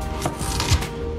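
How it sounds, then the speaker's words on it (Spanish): A knife cuts peeled potatoes in half on a board, giving a couple of short, close, crisp chops in a quiet kitchen. "Ahora vamos a partirlas a la mitad"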